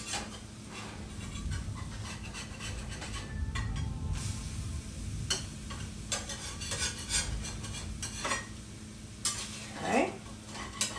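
Eggs flip in a skillet with a mix of spatula clatter, scraping and light clinks over a gentle sizzle. A short scrape at the end may be the flip.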